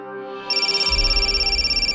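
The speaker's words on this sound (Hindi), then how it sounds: "फोन बज रहा है तुम्हारा।" An electronic phone ringtone begins abruptly and rings steadily in a rapid, pulsing electronic trill, loud and close with no one talking.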